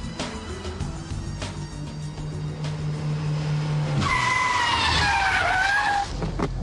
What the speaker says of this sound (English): the handbrake turn followed by reverse flick, and the Scandinavian flick followed by lift-off oversteer